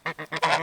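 Geese honk close by in a backyard, four loud nasal calls in quick succession, the last one drawn out, with no talk.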